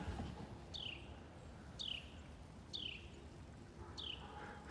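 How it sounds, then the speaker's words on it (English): Carolina wren singing outdoors, four clear repeated whistled phrases at an even pace, fairly distant over soft background hiss. "Listen to that Carolina wren."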